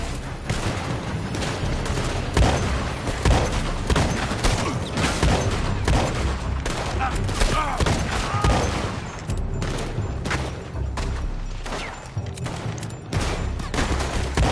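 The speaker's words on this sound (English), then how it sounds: "They're shooting from that building." Dense, continuous gunfire from a Red Dead Redemption 2 shootout at Beaver Hollow, rapid overlapping shots and booms filling the whole stretch at steady loudness with no pauses.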